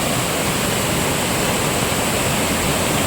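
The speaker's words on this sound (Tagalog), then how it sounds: "Napakaganda po ng waterfall to." Dense, continuous rushing roar of a waterfall swollen by rain, loud and unbroken from start to finish, with no voices.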